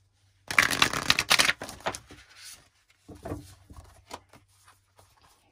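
A deck of tarot cards shuffled up close: a dense riffle of rapid papery flutters, then softer scattered taps and slides as the cards settle, with no voice over it.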